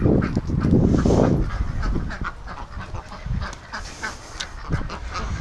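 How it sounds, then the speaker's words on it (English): Several ducks quack in loud, overlapping bursts nearby, with bouts of chattering calls rising and fading outdoors. "Look at the ducks."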